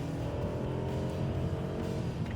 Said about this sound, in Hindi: एक्सीलरेट किया तो यहाँ पर जो बैटरी है वो भी काम कर रहा है, इंजन भी काम कर रहा है, और यहाँ पर आवाज़ जो है वो आपको काफ़ी महसूस होगी